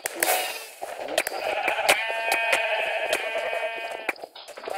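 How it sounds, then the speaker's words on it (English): Sheep in the video game Minecraft bleat loudly and close by, a wavering nasal cry overlapping with rapid clicking and tapping game sounds. "Ray, I have sheep, I don't know how much, but I have sheep."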